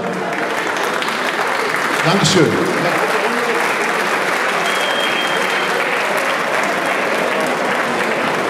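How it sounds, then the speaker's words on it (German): An indoor fight-event audience gives sustained, dense applause for two fighters, steady and even throughout, with someone briefly speaking over it. "nochmal Applaus für die beiden Fighter."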